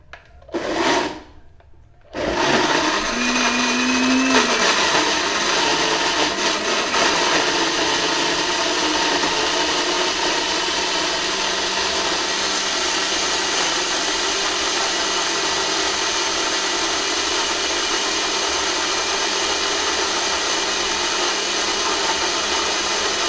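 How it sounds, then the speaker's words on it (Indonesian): A blender grinds white shrimp into fishing bait for carp, starting with a brief burst, a pause, then a loud, steady motor whir that runs on without letup, close and with no talk. "kita blender saja karena biar dia lebih halus"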